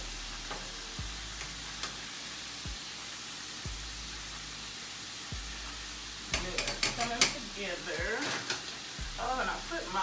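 Ribs sizzle and crackle steadily in a hot frying pan, a constant close frying hiss that gets busier and louder midway, with a few soft knocks and clicks and no talking.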